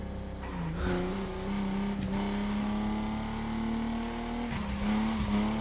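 A Buick GNX lowrider fitted with hydraulics drives in The Crew Motorfest, its engine holding a steady loud drone with small pitch shifts, plus a few brief bumps, with no talk over it.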